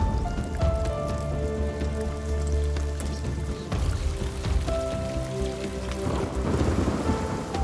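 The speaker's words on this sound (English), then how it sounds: "After 200 days without rain, a storm gathers in the Zambian skies." Steady heavy rain with rolling thunder over the dry Zambian savanna at the end of the dry season, a continuous loud downpour with low rumbles swelling and fading throughout, no voices.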